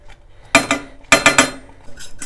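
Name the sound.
stirring chocolate profiterole cream in a pot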